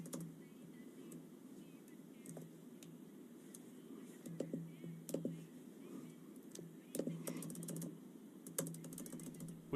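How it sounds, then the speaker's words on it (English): Someone types on a computer keyboard close to a live microphone during a parliamentary question period, with quick irregular clicks and bursts of keystrokes over a faint room murmur. "we have someone typing and not translating"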